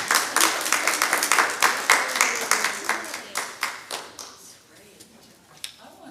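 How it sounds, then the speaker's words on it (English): A small audience at a nonprofit tech club session claps, starting as a brisk patter of several pairs of hands, then thinning to a few scattered claps that fade into quiet room sound. "Give yourselves a round of applause."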